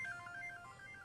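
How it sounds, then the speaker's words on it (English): Mobile phone ringtone going off in a classroom setting, a short, faint, repeating electronic melody heard alone. "don't let your phone go off during class"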